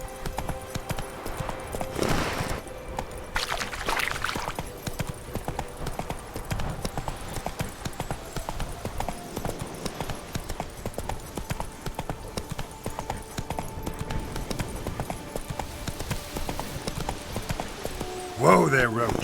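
In The Witcher 3, Geralt's horse Roach gallops with rapid, steady hoofbeats near and loud throughout, over game ambience, and a voice speaks briefly.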